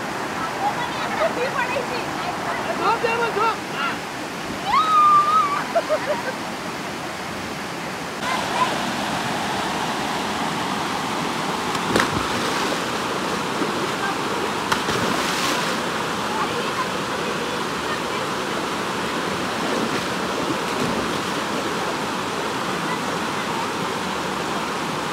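A waterfall at Hemnagar village in Alibag gives a steady, broad rushing wash of falling water, while voices and brief chatter rise over it now and then.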